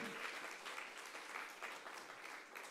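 Steady applause from a large congregation at a Friday church worship service, fairly quiet and distant, a continuous wash of clapping throughout.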